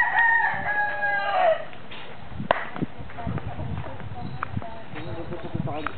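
A rooster crows loudly at the start, followed by clucking chickens and scattered taps and rustles, with people talking in the background.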